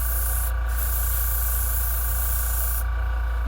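Spray paint hisses steadily and close onto a resin model base for a shark-hunter figure, a continuous airy spray with a constant background hum and no talk.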